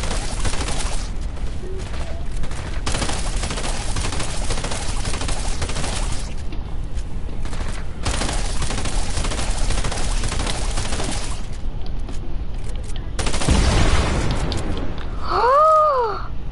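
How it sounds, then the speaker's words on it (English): Burst-fire SMG shots in a shooter video game rattle out in long loud volleys against brute enemies, broken by short pauses, with a rising electronic whine near the end. "This burst SMG does a lot of damage to these brutes."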